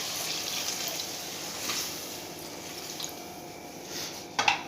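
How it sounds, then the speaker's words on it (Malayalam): Boiled, cooled water poured into chicken roast gravy, a faint steady trickling stream close by with a brief splash at the end, no voices. "കുറച്ച് വെള്ളം ചേർത്ത് കൊടുക്കണം"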